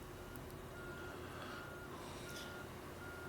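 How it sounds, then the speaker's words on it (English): A truck engine drones in SnowRunner with continuous reversing beeps repeating over it, fairly quiet and with no talking. "I hear your truck."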